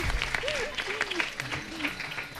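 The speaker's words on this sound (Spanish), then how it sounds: "aplaudan, pues, sí. Vengan a aplaudir." Dense clapping from an audience fills the clip, steady and fairly loud, with a voice speaking over the applause.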